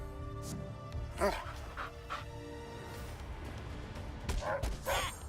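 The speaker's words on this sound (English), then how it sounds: "The dogs are being bitches." Dogs bark, pant, whimper and yip in the South Park: The Fractured but Whole video game. Short bursts recur over a few seconds, mixed with other game sounds and voices.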